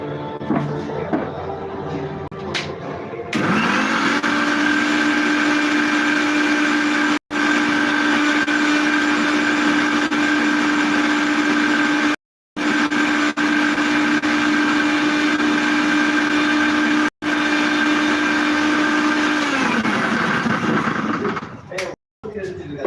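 A kitchen mixer grinder runs loud and steady, grinding masala for fish kuzhambu into a paste, a continuous motor whine in several long bursts broken by brief pauses, starting after some quiet handling.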